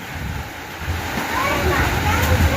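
Strong storm wind roars steadily and close with broadband rushing gusts that swell toward the end, a faint whistling tone in the background and occasional rustling.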